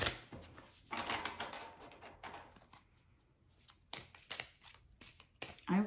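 Tarot cards are shuffled in a few quick papery bursts of riffling and slapping, close and fairly quiet, separated by short pauses.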